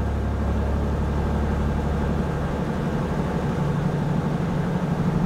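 A light aircraft engine run-up on the ground, the throttle pushed up toward 1800 RPM, giving a loud, continuous droning hum that stays steady for the whole stretch.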